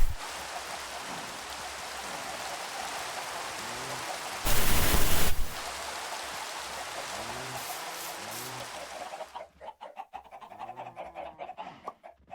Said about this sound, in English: It's so pointless to be mad at the rain